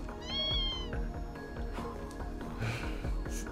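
A cat meows in the video game Tokyo Xanadu eX+, a drawn-out rising and falling call heard once near the start over steady in-game background music.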